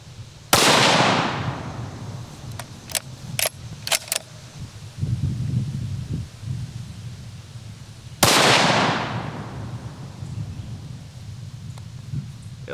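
Two sharp, loud 6.5 Creedmoor rifle shots fired from a beanbag rest, one near the start and one about eight seconds later, each with a long rolling echo tail, separated by faint clicks and handling noise.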